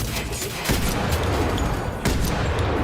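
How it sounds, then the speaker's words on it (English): Sniper rifle in the shooter game F.E.A.R. 3 fires two sharp, loud shots about a second and a half apart over a constant background of game noise. "So we got 15 shots left with the sniper rifle."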